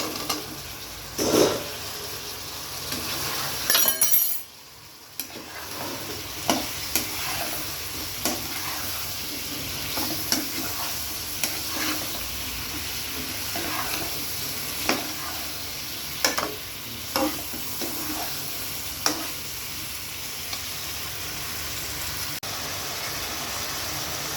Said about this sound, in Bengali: আমার ফুলকপি আলু কষানো হয়ে গেছে